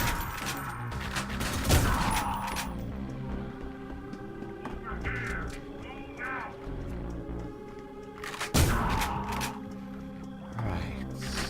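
Gunfire in the Ion Maiden first-person shooter, sharp bursts near the start and again around two-thirds through against a busy game soundscape, with someone talking between the shots.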